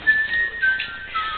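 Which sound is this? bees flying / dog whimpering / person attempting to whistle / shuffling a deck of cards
person attempting to whistle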